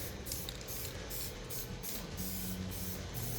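An aerosol spray can hisses steadily while coating a VW Passat B1 bumper with paint, the continuous spray pulsing slightly as it sweeps back and forth, close and fairly loud with no talking.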